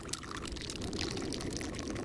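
Tea pours from a thermos outdoors on a frozen winter fishing trip, a continuous splashing, gurgling stream running steadily for a couple of seconds, close and fairly loud.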